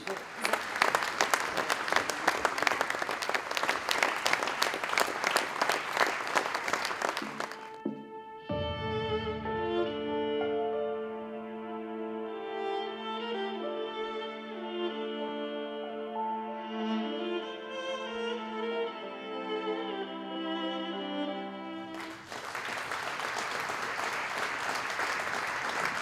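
A large audience applauds loudly and steadily for Toni Vodišek, recipient of the 2022 Bloudek plaque at the 58th awards ceremony, then gives way to music before a second burst of clapping.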